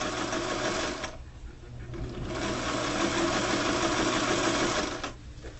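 A sewing machine stitches back tacks on trim along a trouser pocket opening, with loud bursts of motor whir and needle clatter broken by brief pauses as the stitching direction reverses.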